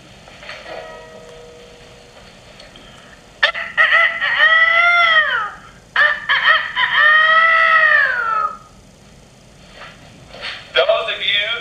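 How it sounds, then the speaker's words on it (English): A rooster crows loudly and close by, two long full cock-a-doodle-doo calls followed by the start of a third, with quiet gaps and no talking over them. "Those of you who guessed it's a rooster, you're right."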